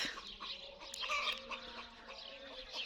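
Faint hens cluck softly in the background amid a hissy outdoor village ambience, the calls distant and subdued.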